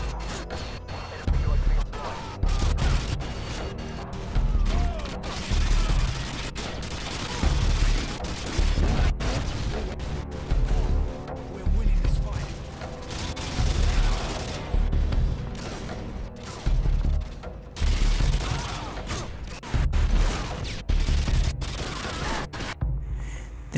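An RPD light machine gun fires in Call of Duty: Modern Warfare 2 in repeated loud sustained bursts separated by brief pauses, with a voice talking over parts of the shooting.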